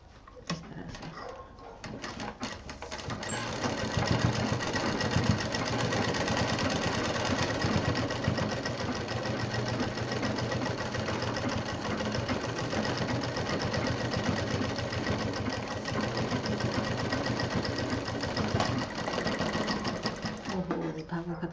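A sewing machine runs steadily for about twenty seconds, stitching the corners of a DIY sling bag straight along where the lace was joined; the whirring is loud, close and continuous, with no pauses.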